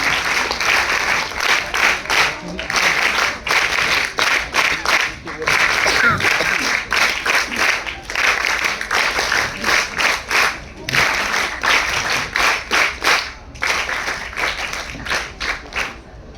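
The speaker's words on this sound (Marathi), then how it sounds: "टाळ्यांचा कडकडाट थांबता कामा नये।" Loud, sustained applause from an auditorium audience welcoming a guest onto the stage at a school documentary inauguration, dense rapid clapping continuing throughout with a brief dip near the end.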